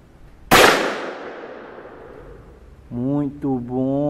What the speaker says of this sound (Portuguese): vamos ao novo disparo.